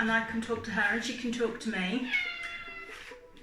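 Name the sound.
cat meowing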